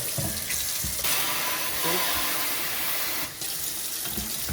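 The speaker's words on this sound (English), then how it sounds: "Here we have your kitchen faucet, which has a hose built in." Water runs steadily from a kitchen faucet with a built-in hose, a close, continuous splashing stream into the sink with a few brief dips and clunks.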